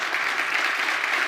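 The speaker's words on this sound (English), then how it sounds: "how about a round of applause for the two of you?" Audience applause for two panelists at a business conference session on impact investing, a dense, steady wash of many hands clapping, close and even throughout the brief moment with no voices.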